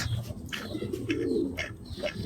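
Inside a racing pigeon loft, birds give a few close, rolling coos with scattered short chirps against a busy flock background.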